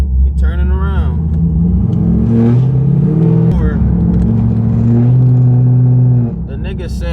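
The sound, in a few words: straight-piped Pontiac G8 exhaust revving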